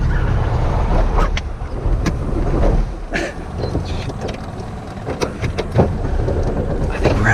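A 1967 Volkswagen Bug's air-cooled engine running low on gas, a steady rumbling drone with wind buffeting across the microphone and faint voices underneath.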